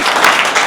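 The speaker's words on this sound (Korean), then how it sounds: "이걸 기조 강연으로 인정을 할 수 있다면 박수를 쳐주십시오" Dense applause from the audience at a Korean peace and unification symposium after a keynote lecture, a brief, loud, continuous burst of many hands clapping.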